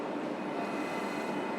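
Steady rumbling rail noise from inside a moving train, continuous and fairly loud with no voices.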